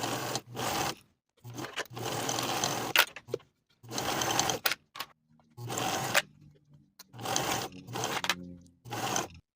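A sewing machine bastes a collar onto a knit jacket in several loud, close bursts of rapid mechanical whirring, each a second or two long, broken by short pauses, with no one talking.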